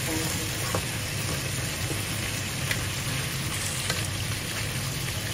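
Crabs stir-frying in a pan give a steady, close sizzle with continuous crackle and occasional sharper pops throughout, with no talking.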